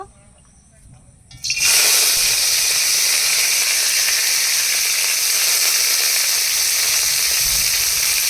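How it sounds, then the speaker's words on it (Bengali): Pipul greens stems drop into hot oil in a wok and break into a loud, steady sizzle after a quiet start, hissing continuously for several seconds. "আমি এখন পেপুল শাকটা রান্না করে নেবো আগে এই পিপুল শাকের ডাটাগুলো দিয়ে দেব"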